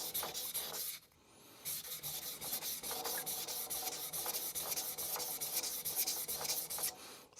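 A knife blade sharpened on a 1000 grit vitrified diamond stone with medium pressure: continuous gritty rubbing and scraping strokes with a brief pause, close and fairly quiet, without talk.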